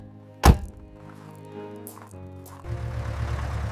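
A restored 1934 Rolls Royce Phantom gives one loud, solid thunk like a heavy door closing, close up, followed by quiet room sounds and a low steady hum.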